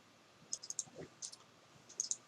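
Mouse clicks in PlaceMaker software: a few small clusters of sharp, quiet clicks spaced roughly half a second apart, close and dry against a faint background hum, no speech.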